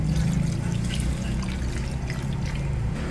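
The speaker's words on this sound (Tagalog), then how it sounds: "Dadagdagan pa po natin ng tubig, at ito po yung ating pang palalambutin." Water poured from a container into a cooking pot of soup broth on the stove, a steady close trickle and splash heard alone.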